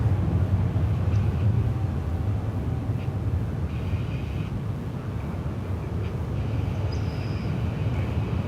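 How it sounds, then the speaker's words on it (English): A jet airplane at DFW Airport sends a steady, broad, low-heavy roar that holds for the whole stretch, distant and continuous with no talk over it. "But that one is flight 2195. Coming on down from Salt Lake City."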